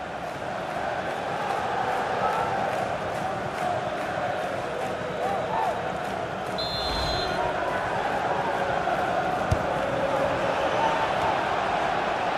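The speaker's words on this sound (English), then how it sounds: "it's put the crowd right on the edge of their seats again." A stadium crowd in the FIFA 16 football game roars in a dense, constant wall of noise, with swelling chants and cheers throughout an FA Cup quarter-final between West Brom and Crystal Palace.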